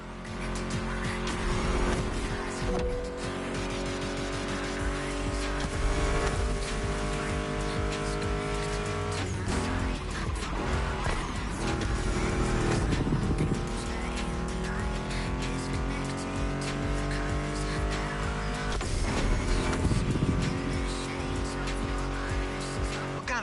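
Mustang GT muscle car engine in the racing game The Crew Motorfest, a steady loud roar that rises and falls with shifts, mixed under continuous music throughout.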